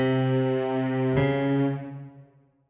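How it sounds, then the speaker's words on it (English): A dissonant minor second: two adjacent notes held together in a tense, beating clash, sustained for about two seconds before fading out alone. "this dissonant interval of a minor second"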